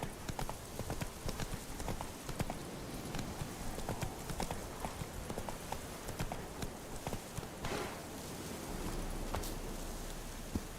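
Hooves of the horse Roach clip-clop steadily in the game Witcher 3, a quick, even stream of light hoof falls over a soft, rain-like wash, with no voices.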